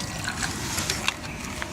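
Windshield washer fluid with de-icer pours from a bottle into a car's reservoir, a steady soft liquid trickle and gurgle with small splashy ticks, close and fairly quiet.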